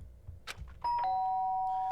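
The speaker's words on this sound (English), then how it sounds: "the sound of the doorbell forced its way into my room." A doorbell chimes inside a room in Danganronpa: Trigger-Happy Havoc. After a quiet, low rustle, a single clear electronic ding rings out and sustains brightly to the end.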